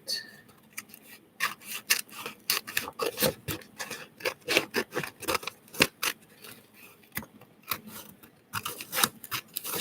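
Paper from a magazine being trimmed with scissors at a crafting table, a string of short crisp snips and rasping cuts in irregular bursts, close and fairly quiet, with no talk over them.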